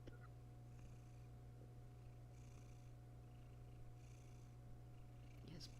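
A cat purrs steadily right up against the microphone, a low continuous rumbling drone that stays close and even throughout, with faint rustles over it.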